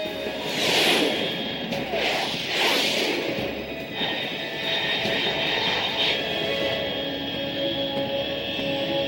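A fast aircraft in the Metal Gear Solid 3 video game roars overhead, with two loud whooshing swells early on, then a steady, sustained engine drone that carries to the end.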